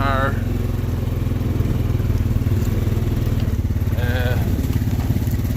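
A 2020 Honda Foreman EPS foot-shift ATV engine labors up a hill, a loud, close, steady chugging drone that holds constant throughout, with a person talking over it.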